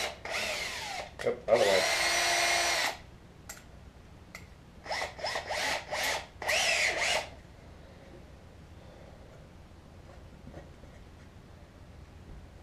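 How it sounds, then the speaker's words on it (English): Power drill boring holes in wood in several bursts, a long whirring run followed by short stop-start trigger pulls, close and loud, then quiet handling noise with a brief spoken remark. "And now, let's drill our holes."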